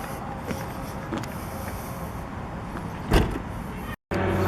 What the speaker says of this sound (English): To close the boot, you simply do this.